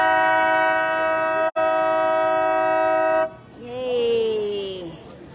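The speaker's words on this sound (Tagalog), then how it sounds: "Andar na. Nag-honk na." A loud, sustained multi-tone boat horn blast at Niagara Falls, briefly interrupted, then cut off; afterward voices and cheering rise in the background.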